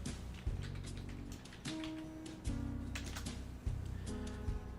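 Fingers type on a computer keyboard to fill in a form, a quiet, irregular patter of key clicks running steadily for several seconds with occasional louder taps.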